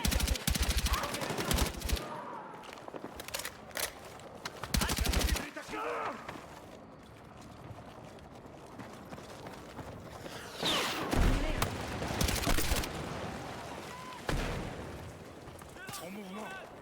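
Machine gun fire in a night-raid video game: several loud bursts of rapid automatic shots with booming blasts, alternating with quieter stretches where voices talk between the volleys.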